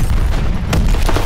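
An explosion blowing an objective open in Call of Duty: WWII, a loud, close, rumbling blast that fills the whole short moment.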